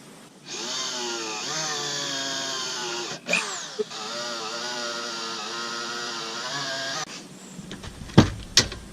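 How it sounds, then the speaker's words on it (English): A power drill whines steadily for several seconds drilling pilot holes for a tractor seat, its pitch sagging now and then as the bit bites, followed by a few sharp clicks and knocks. "now I'll drill some pilot holes"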